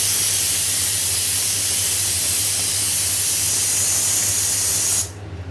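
Whole cumin, dry red chilli, fenugreek and a little nigella seed sizzle in hot oil with a steady, loud, close hiss that cuts off abruptly near the end.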